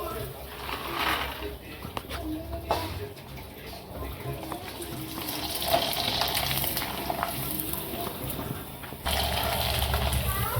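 Potato and sago papad fry in hot oil with a bubbling, crackling sizzle that swells and eases, close by and moderately loud, with occasional clinks.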